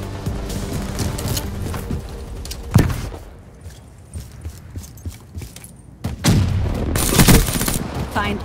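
Automatic weapon fire in a Black Ops 3 online Team Deathmatch: loud, rapid bursts open the round, a sharp blast stands out, quieter scattered shots and clatter follow, then dense, heavy firing returns close up at the end.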